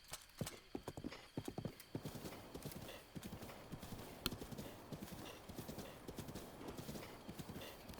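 Horse hooves clip-clop in a steady rapid rhythm over windy outdoor noise in The Legend of Zelda: Breath of the Wild, with a short neigh and occasional speech.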